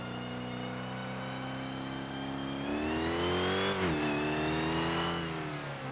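A Dodge Challenger in the video game GTA 5 revs its engine, a harmonic drone climbing in pitch as it accelerates, dipping briefly at a gear shift and then rising again, loud and close with no talk.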